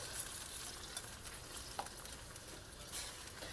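Soffritto sautés in a pan with a faint, even sizzle and light stirring, quiet and close with no voices.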